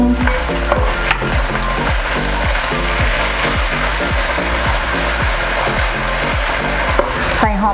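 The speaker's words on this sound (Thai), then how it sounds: "ัดไปเรื่อย ๆ จนกว่าใบกะเพราจะสลดลงนิดนึง" Chicken and holy basil leaves stir-fry in a hot pan: a loud continuous sizzle with rhythmic spatula scrapes repeating about twice a second, up close and without talk.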